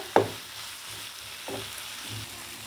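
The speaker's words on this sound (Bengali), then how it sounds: "आलूटार संगे मशलाटाके एकटु भालो करे कषिয়ে नेब" Spices and small potatoes frying together in a pan, a soft steady sizzle broken by a few brief stirring scrapes, close up with no voices.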